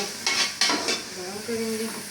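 Garlic and ginger paste hits a hot pan for chicken and vegetable spaghetti, giving a few sharp scraping stirs followed by a steady sizzle, close and moderately loud with no talking.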